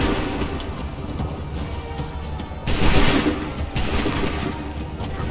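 Musket volley fire in the video game Assassin's Creed III, with continuous crackling gunfire throughout and a louder, denser burst of shots in the middle.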